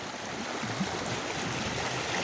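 Water rushes and splashes steadily around a small boat on a short river ride, a broad continuous wash with wind noise that swells slightly toward the end.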